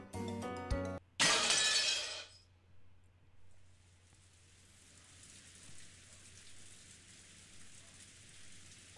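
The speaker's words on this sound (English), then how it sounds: "In the Golden Land, the endless rain continued to fall." Endless rain falls in the visual novel game Umineko, a soft steady hiss that follows a sharp glass-shattering burst and a short musical passage at the start.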